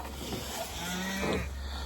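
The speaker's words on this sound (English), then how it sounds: "My cow is mooing at me." A cow on a small farm moos in a single drawn-out, low call near a greenhouse, clear and fairly close against steady background noise.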